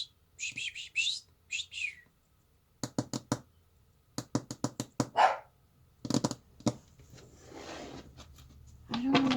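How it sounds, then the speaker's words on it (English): A dog barks in short sharp bursts, several in quick succession with pauses between, close by and fairly loud, with bird chirps and knocking-like sounds also present, and no talking. "I don't know what he's barking at."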